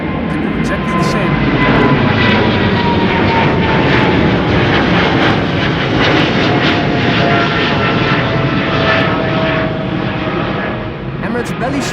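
An Emirates airliner climbing steeply after takeoff from Schiphol, a loud continuous engine roar sustained throughout with a slowly shifting whine, heard close and dominant.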